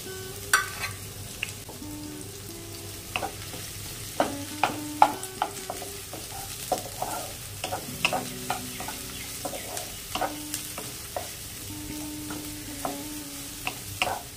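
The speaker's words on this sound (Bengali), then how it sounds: "দিয়ে দেব কুচিয়ে রাখা পেঁয়াজ, আর দেব রসুন" Chopped onion and garlic frying in oil spiced with garam masala for a crab curry, a constant soft sizzle punctuated by regular clicking and scraping of a spatula against the pan, close up and with no voices.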